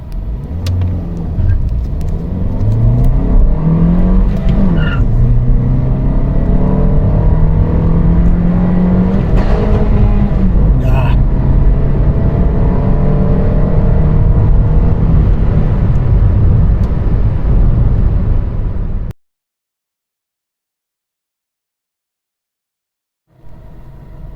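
A Toyota Yaris ATIVX with manual transmission accelerates hard from 0 to 100 km/h, loud engine revs climbing through the gears with brief drops at shifts for about nineteen seconds, then near silence before the engine rumble returns.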